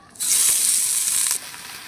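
Mutton frying in a pan on a wood-fired stove, a bright hissing sizzle that bursts in loudly and holds steady for about a second before dropping to a softer background crackle.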